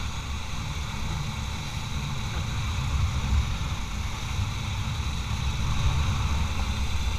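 Motorcycle engine running during a Sunday morning group ride around Alam Sutera, a low continuous hum with wind rush that stays steady and moderately loud, without talk.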